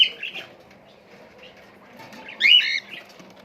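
Small birds kept by a girl chirp and squawk near their nest, with brief high calls at the start and a louder burst of chirps midway over quiet background rustling.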